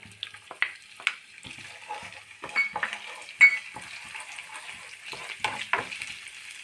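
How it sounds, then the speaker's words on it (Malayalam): Chopped garlic and curry leaves frying in a tablespoon of coconut oil in a pan, a soft steady sizzle with scattered crackles and stirring scrapes, close and fairly quiet. "ഒരു ടേബിൾ സ്പൂൺ വെളിച്ചെണ്ണ വീത്തിയിട്ടുണ്ട്. അതിൽ കുറച്ച് വെളുത്തുള്ളി കുനുകുന അരിഞ്ഞിട്ട്, കുറച്ച് വേപ്പിലിടാം"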